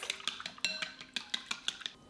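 A whisk beats eggs and chicken stock in a bowl, giving a quick, irregular series of bright metallic clinks against the bowl, close and fairly quiet.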